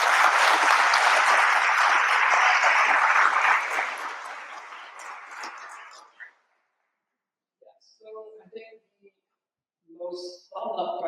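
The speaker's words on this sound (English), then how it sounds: "give a round of applause for Barry and Ewa." A conference audience applauds loudly for several seconds after a Chrome DevTools talk, the clapping fading out, followed by a few short bursts of speech.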